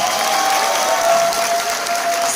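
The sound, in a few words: applause and cheering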